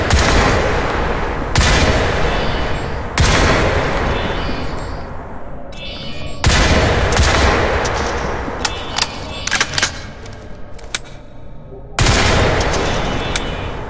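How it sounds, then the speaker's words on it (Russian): Rapid automatic gunfire from a Crysis 3 video game sounds in several loud sustained bursts, with short pauses and scattered single shots between them. "Даже при условии компенсации отдачи скоростная стрельба не будет точной."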